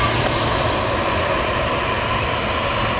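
An airliner on takeoff from runway 24 right gives a loud, sustained engine roar, a broad continuous rushing thrust that holds steady throughout, with no voices.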